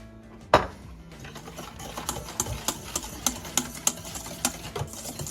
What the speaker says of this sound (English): Just whisk it together,